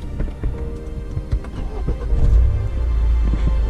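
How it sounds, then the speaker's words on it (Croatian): A Renault Grand Scenic 3 engine turns over and settles into a low, steady idle, close by, after some brief clicks and handling noises at the start. "Znači, upali se auto."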